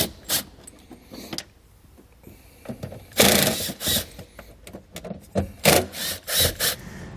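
A Phillips screwdriver takes screws out of a vehicle panel while a powered tail light converter with a 4-pole flat trailer connector is fitted, heard as scattered close clicks, taps and scrapes of metal and plastic in irregular bursts.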